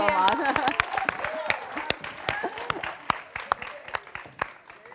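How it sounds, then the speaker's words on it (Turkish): A television studio audience breaks into applause during an exercise segment, starting with voices and a full round of clapping that thins into scattered, distinct claps as it fades out. "Vallahi kendimizi alkışlayalım billahi."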